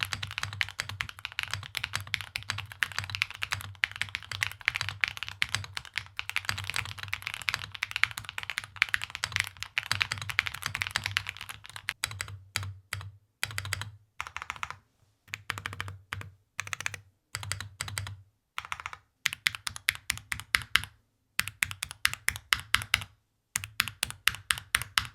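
Typing on a Luminkey 80 TKL mechanical keyboard fitted with Sylva switches: a steady fast stream of close clacks at first, then slower separated keystrokes with short pauses between them.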